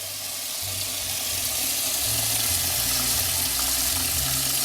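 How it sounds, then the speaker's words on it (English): Water is poured into a pot of beef stew with added potatoes for pressure cooking, a steady close running-water rush with a low bubbling undertone throughout, no talk. "Potatoes added in, add a little bit more water."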